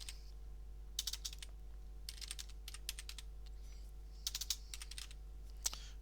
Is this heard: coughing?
no